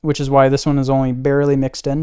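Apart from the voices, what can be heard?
No everyday noise stands out behind the speech.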